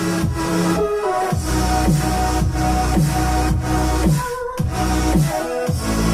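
Electronic dance track with layered supersaw synth leads over a pumping bass line, dense and loud throughout, with a rhythmic sidechained pulse and a brief dip near the middle.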